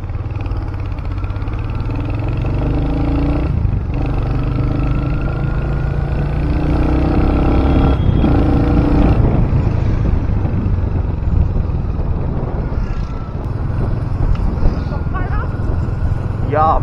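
A motorcycle rides through traffic on a morning commute to the office, its steady engine drone continuous and close throughout, with someone talking over it at times.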